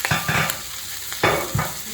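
Spleen sizzles and pops in a hot frying pan, with a few bursts of crackling and stirring scrapes, loud and close.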